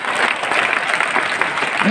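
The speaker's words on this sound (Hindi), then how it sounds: "तालियां बहुत जोर से" Audience at a school annual function applauding loudly, a dense burst of clapping from a crowd lasting the whole moment.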